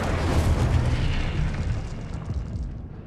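A fire spell blasts from a wand in Hogwarts Legacy, a dense roaring whoosh and rumble that starts loud and slowly fades over a few seconds, with no talk over it.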